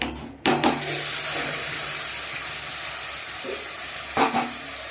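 Bay leaf and a dried red chilli hit hot oil with a sharp burst, then a loud steady hiss and sizzle close by, with a couple of light utensil knocks.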